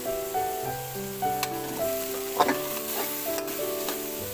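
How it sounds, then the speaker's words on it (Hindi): Green peas frying in oil over a lowered flame, a gentle sizzle with a few spoon scrapes and clicks, while steady background music plays throughout. "इसी में मैंने ये मटर डाल दिए हैं। तो अब हम इनको फ्राई करेंगे।"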